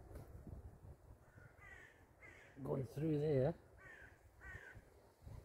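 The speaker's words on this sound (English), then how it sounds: "That's why the crows are in an uproar at the moment." Several crows caw in an agitated uproar in a forest, a cluster of loud harsh calls and some fainter ones, heard alongside someone talking quietly.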